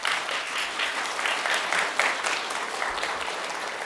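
Audience applause at a board of trustees meeting after a public comment: a loud, steady wash of many hands clapping, sustained for several seconds with little talk.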